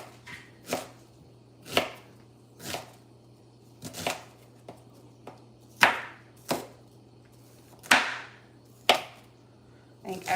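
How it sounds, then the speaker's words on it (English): Food being chopped with a knife on a cutting board in a home kitchen, loud sharp strikes arriving singly and in irregular clusters about every second, with no talking over them. "This is just way too much chopping."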